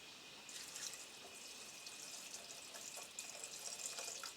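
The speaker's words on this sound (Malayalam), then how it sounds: "ഇതിലേക്ക് ഞാൻ കുറച്ച് വെള്ളം ഒഴിച്ചു കൊടുക്കുവാണ്" Water pours into a pot of mango curry as a soft, steady splashing stream, faint and close, running for a few seconds without any voices.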